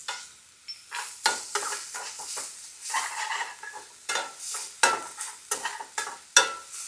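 Garlic, ginger, onions and green chillies stir-fried on high heat, with loud close sizzling swells and repeated scraping strokes of a spatula in the pan, coming in irregular bursts.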